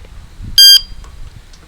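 An e-bike brake lock alarm gives one short, loud electronic beep up close outdoors, followed by faint handling noise.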